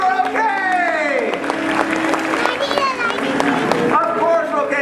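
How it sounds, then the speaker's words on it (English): Audience applause and crowd noise at a live special effects show at Universal Studios, dense clapping blending with cheers and voices, steady and loud throughout with overlapping talk and shouts over it. "Everyone give them a big round of applause."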